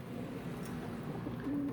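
Low, soft pigeon cooing rolls steadily through the clip, a continuous murmur of several birds close by with no talking.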